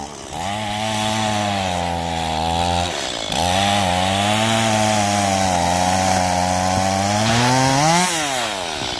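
Chainsaw running loud and close, its engine holding a steady whine with slight pitch swings, a brief drop near the start and a rising rev toward the end, with no talking.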